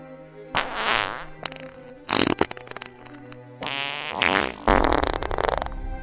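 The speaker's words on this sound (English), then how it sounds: "Did you just fart?" Loud, drawn-out fart noises come in several long bursts, some rippling and sputtering and others sustained and buzzy, with brief pauses between them.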